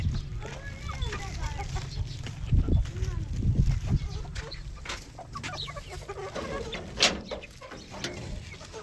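Hens cluck and murmur on a farm with goats and chickens, a close steady chatter with a few louder squawks, while someone talks over them.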